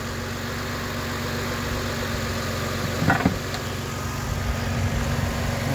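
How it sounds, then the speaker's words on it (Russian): A car engine idles steadily with the hood open, cold and running at raised revs, a smooth even hum with a brief louder knock partway through, close and alone. "Мотор работает ровненько."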